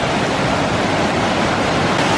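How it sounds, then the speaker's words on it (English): Powerful creek water rushes through a rainforest at Lunch Creek near Ketchikan, Alaska, a steady, dense roar that fills the whole clip without pause or voices. "There's some powerful water."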